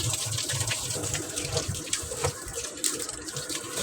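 Mangoes being washed under a running kitchen tap, with a steady broadband rush of water and irregular splashes as the fruit is handled, fairly close and continuous throughout.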